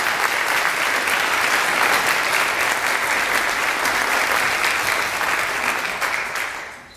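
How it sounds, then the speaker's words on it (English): A school band concert audience gives a round of applause for music teachers, a loud, dense, even roar of clapping from a large crowd that holds steady and fades out at the very end. "you could give a round of applause for the following 3"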